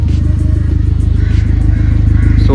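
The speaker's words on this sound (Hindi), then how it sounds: "So let's start up. या there you go, car start हो गई है" A Skoda Octavia vRS with a stage 3 tune and K04 turbo idles right after starting, giving a loud, close, rapidly pulsing low engine rumble that stays steady throughout.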